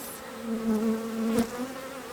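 Honey bees, nurse bees tending brood inside an Apimaye hive, give off a steady, close droning hum that holds level for a couple of seconds, with one brief rustling bump partway through.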